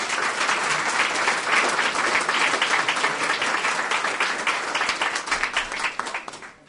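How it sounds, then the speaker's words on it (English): An audience at a disability awareness awards ceremony applauds steadily and loudly, a dense wash of many hands clapping that holds for several seconds before thinning and fading out at the end. "please give a round of applause in her honor"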